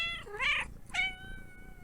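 A house cat meows twice in quick succession, a drawn-out, wavering call followed by a shorter one, close and clear with a faint hum underneath.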